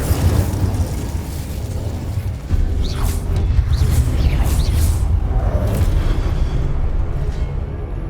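The Incendio fire spell cast in the Hogwarts Legacy video game, heard as whooshing bursts and booming fiery blasts over a rumbling game soundscape, fairly loud and continuous with no voices.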